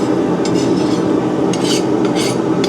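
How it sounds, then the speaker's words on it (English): A file rubs on dull, unhardened knife steel, giving a continuous gritty scrape broken by several short, brighter strokes, close and fairly loud with no talk. "Where dull steel sounds like this."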